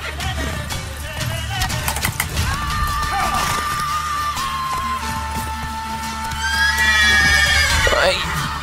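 A horse whinnies in The Witcher 3: Wild Hunt during mounted combat, with a loud, rising then falling neigh near the end over steady game music and battle noise.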